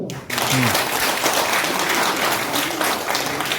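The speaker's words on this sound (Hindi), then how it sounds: "कम से कम तालियां तो बजाओ" Audience clapping at a Kapila health care seminar in Tinsukia, a dense, steady burst of applause that fills the room for several seconds.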